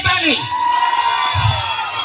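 A crowd at a school event in Andhra Pradesh whoops and shouts loudly throughout, a dense close roar of voices with a rising cry near the start; clapping is not clearly separable.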